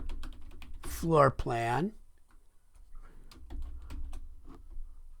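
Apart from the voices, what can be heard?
typing on a computer keyboard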